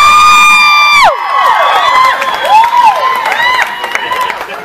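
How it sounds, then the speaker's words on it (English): A concert crowd at a show in Kearney, Missouri keeps cheering and whooping, with a held sung note cutting off early and then scattered high yells rising and falling over a steady roar. "Y'all keep cheering"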